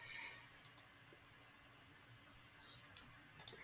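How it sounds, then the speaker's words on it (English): Mouse clicks while right-clicking in Onshape CAD software: a few sharp, quiet clicks, one pair near the start and a cluster near the end, over a faint steady room hiss. "Right click on it and get rid of it."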